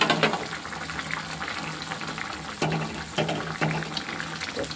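A fish curry with tomato paste, onion and garlic bubbles in a pan, a continuous close simmering with gurgles and a few louder bursts of boiling.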